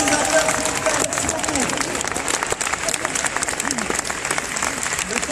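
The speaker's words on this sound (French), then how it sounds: "applaudissements pour les organisateurs, s'il vous plaît" Audience at an event applauds the organizers, a loud sustained burst of clapping with crowd voices and talk mixed in throughout.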